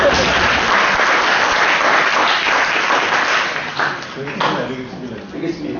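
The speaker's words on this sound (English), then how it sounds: "So Malaysia, give a clap to that as well" An audience at a talk event claps in a dense, loud burst of applause that carries on throughout and thins toward the end, with a voice speaking over it.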